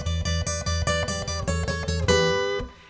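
Acoustic guitar playing a solo finger style, a thumbed low E bass pulse steadily under plucked treble notes, closing on a ringing strum that decays.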